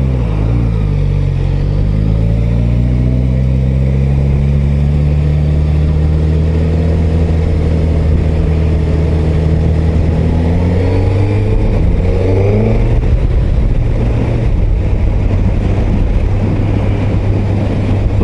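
A Suzuki GSX-S 1000 GT motorcycle rides along with a loud, steady engine drone and rising and falling pitch as it accelerates and shifts, wind rumbling constantly in the background.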